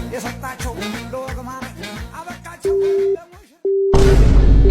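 A telephone busy signal from a number that does not work sounds as repeated, evenly spaced beeps over background music, then breaks into steady held tones, closing on a loud burst of noise.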